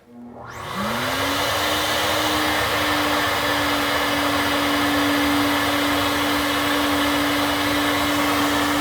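A CNC-ported 12V Cummins cylinder head on a flow bench at intake test lift gives a loud, steady rushing roar, with a pitched whine rising as the airflow spins up and then holding level.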